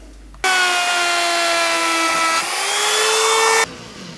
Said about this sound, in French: Alors là, ça doit passer à la fleureuse.